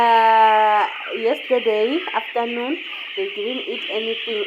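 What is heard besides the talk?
hungry chickens crying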